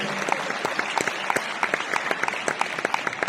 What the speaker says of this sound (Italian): Un applauso d'augurio per questa ampia formazione